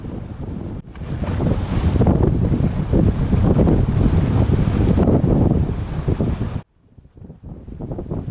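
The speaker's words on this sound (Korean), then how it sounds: "바람과 파도가 점점 거세지고 해도 저물어 갑니다." Strong wind roars across the microphone at sea off Jeju during blackfish fishing as evening falls, a loud steady rush with waves washing beneath, cutting out abruptly before resuming more faintly.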